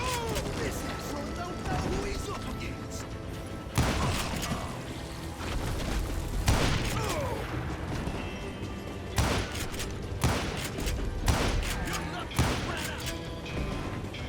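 Gunshots and crashing wood planks in the Western shooter game Call of Juarez Gunslinger, sharp loud bursts spaced irregularly over game music and effects, while someone talks throughout.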